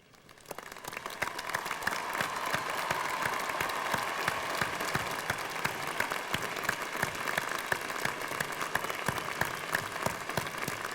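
A ceremony audience stands and applauds the graduating class of 1996 at the University of Washington's 121st commencement, a steady, dense wash of clapping that swells in the first second and holds evenly throughout with no talk.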